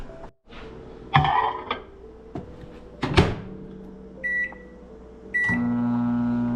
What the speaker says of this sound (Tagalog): i-microwave ko na lang siya, guys